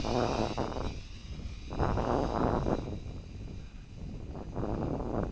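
A Syma quadcopter drone flies outdoors on a windy day, its motor buzz close and steady, rising and falling in pulses, with wind noise on the microphone.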